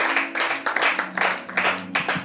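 Rhythmic group applause in a church service, steady claps in repeated pulses, fairly close and lively, with no talking over it.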